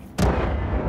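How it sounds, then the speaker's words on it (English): An enemy bursting apart on death in Wolfenstein II: The New Colossus, a sudden sharp blast after a quiet moment that leaves a dense, rumbling roar for the rest of the second. "Oh, they explode when they die."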